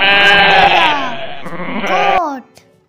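A goat gives a long, loud, wavering bleat close by that trails off into a shorter final cry before fading out.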